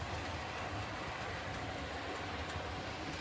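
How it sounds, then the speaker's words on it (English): An O gauge model railway locomotive, the Scotsman, runs along the track with a steady, continuous rumble and hiss that holds even in level throughout, without talking. "so let's run a train."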